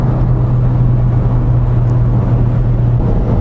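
Steady drone of a Ford Focus RS MK1 engine cruising on a motorway, a low constant hum with road noise that runs loud and unbroken throughout.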